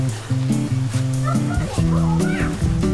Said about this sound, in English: Yeah, it's a mad dog.